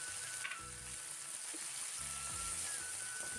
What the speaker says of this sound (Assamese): ইয়াতে এতিয়া শাকখিনি মই দি দিছোঁ।